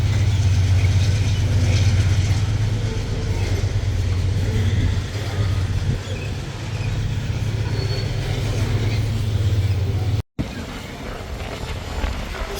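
Loaded freight train departing Bueno de Andrada station in São Paulo, Brazil, hauling cargo from Rio Verde, Goiás: a steady, loud low rumble of locomotive and rolling wagons, continuous throughout, with a brief dropout near the end.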